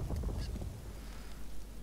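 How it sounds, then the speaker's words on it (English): A duck in a video game honks, with a few brief nasal calls early on over a steady, noisy background rumble. "It's a duck."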